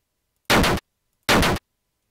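Two identical punchy explosion effects for a player getting hit in a homemade C# shooter game, each a loud short burst about three tenths of a second long, separated by silence.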